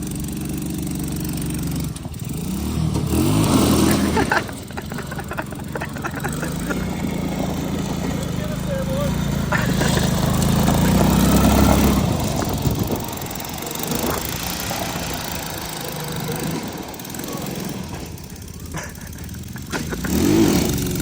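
A Tao Tao Chinese ATV with a repaired engine head runs and revs nearby, a rough mid-pitched engine note rising and falling in uneven surges over about twenty seconds.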